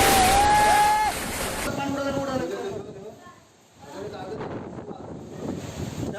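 Strong gusting wind from Cyclone Nisarga buffets the microphone near the coast at Alibaug, Raigad, a loud roaring rush that briefly eases midway and then builds again, with faint talk underneath.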